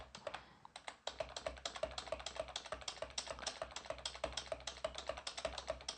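Rapid, steady clicking of keys on a computer keyboard, close by and continuous, with no voices.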